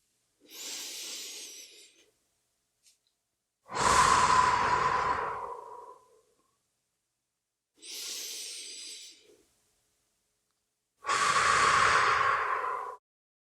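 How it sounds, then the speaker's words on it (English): Slow, patterned breathing alternates between softer, airy inhales and heavier, louder exhales, two full cycles about three seconds each, close and isolated with silence between breaths. "I repeated the breathing pattern until I could hear her matching me."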